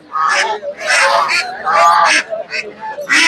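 Ducks at a poultry market honking and quacking loudly in overlapping bursts, close by, with a busy crowd murmur behind.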